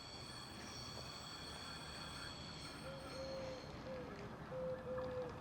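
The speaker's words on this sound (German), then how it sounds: "Unser Zug ist viel zu früh dran." A regional express train in Thuringia arriving at a station platform, a continuous rolling rumble joined by thin high wheel or brake squeals in the final seconds, fairly close.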